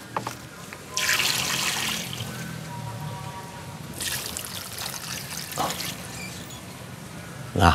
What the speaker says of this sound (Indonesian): Saya akan siram.